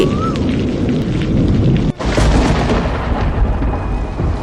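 Thunder and rain in a cartoon, with heavy rain falling over a forest hut: a loud, steady downpour hiss over a deep rolling rumble, with a brief dip in the middle before the storm resumes.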